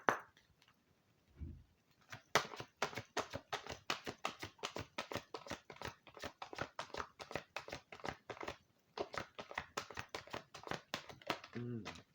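Halloween oracle cards shuffled by hand, a rapid run of crisp riffling taps and flicks lasting several seconds, close up, with a brief low thump near the start and no talking over it.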